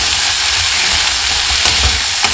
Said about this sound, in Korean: 이렇게 양파가 노릇노릇 볶아지면 감자를 넣어